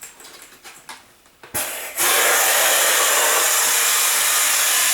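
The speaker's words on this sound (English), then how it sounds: "as air is getting transfilled into the bottle, starts pouring out of the facepiece" Compressed air rushing out of a firefighter's SCBA facepiece during a transfill into the air bottle, a loud steady hiss that bursts on abruptly and holds continuously after a few softer rustling bumps.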